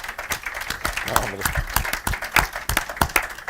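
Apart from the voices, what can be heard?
audience applauding the author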